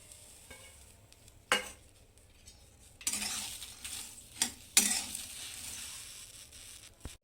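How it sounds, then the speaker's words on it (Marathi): Sprouted beans for usal dry-roasting in a hot pan, with a series of scraping stirs and clinks from a spatula over a faint background sizzle, several louder strokes spaced a second or so apart. "उसळ भाजून झालेली आहे।"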